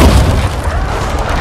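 Heavy bolt launched by a ballista in The Witcher 2, a single loud, booming low thud with a dense rumbling tail lasting about a second and a half.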